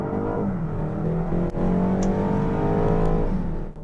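A BMW 330xi engine revs nearby, its rising and falling tone sustained for several seconds with no talking over it.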